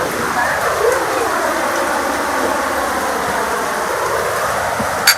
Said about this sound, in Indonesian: Cuacanya lagi hujan gede banget.